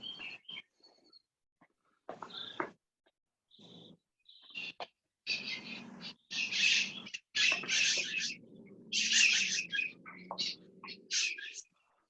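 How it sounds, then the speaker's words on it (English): Parrots calling outdoors in Pasadena: faint, distant bursts of harsh squawks and chirps that come in irregular clusters and grow busier toward the end. "Sounds like those good old Pasadena parrots are out."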